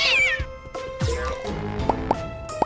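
Cartoon Cat meowing in the Huggy Wuggy mobile video game, a drawn-out cartoonish meow followed by a few short tonal cries and sharp chirps, loud and close with no talking.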